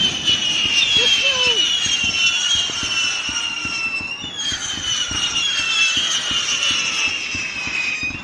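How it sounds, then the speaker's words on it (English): Loud howling whistling fireworks, several long shrill whistles rising and overlapping for several seconds, with crackling pops and bangs underneath and voices faintly in the background. "The insanely loud as hell, ear-piercing, whisperer ones. The howlers."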